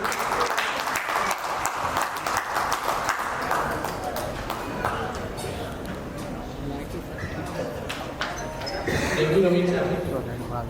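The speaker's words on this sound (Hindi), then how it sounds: "जोरदार तालियों से इनका स्वागत कीजिए प्लीज" Steady applause from an audience at a club's sports and recreation event, welcoming a singer onto the stage, continuous clapping with crowd noise that swells near the end.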